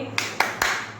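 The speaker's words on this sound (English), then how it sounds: "that is the sound of my clapping" Three sharp hand claps in a classroom, close and evenly spaced, each a crisp isolated burst with nothing else heard.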